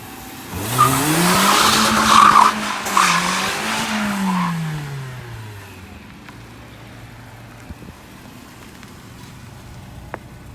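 A BMW E36 with freshly installed coilovers drifts, its tires squealing in a loud, wavering howl with engine revving for about five seconds before fading into quieter road noise.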